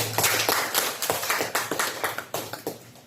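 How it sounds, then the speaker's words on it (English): A congregation at Sunday Mass applauds, a short run of sharp, uneven claps from a small group in a church hall, fairly close and clear with no talking. "Let us give Him a round of applause."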